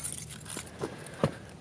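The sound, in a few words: keys jangling in a pocket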